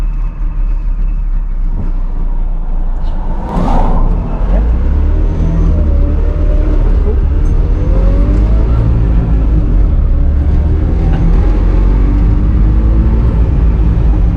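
A 1985 Trabant 601s engine drones loud and close from inside the car while driving, a rough continuous rumble with road noise and a brief thump early on.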